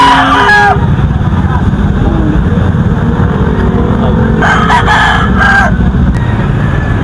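A young gamefowl rooster (stag) crows at a gamefowl farm in San Jose del Monte, Bulacan, with a short crow at the start and another strained burst midway, both fairly distant beneath a steady, loud rushing background noise.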